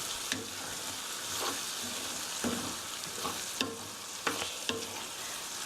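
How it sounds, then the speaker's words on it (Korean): Chicken pieces coated in ketchup sizzle softly in a pan while being stir-fried, with steady low frying crackle and intermittent scrapes and taps from a stirring utensil. "2분, 2분 정도 볶아주세요."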